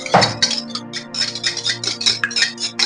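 Three eggs cracked into a kitchen vessel are beaten with a utensil, giving a rapid run of close clinking and tapping strokes against the bowl, steady and continuous with no voices.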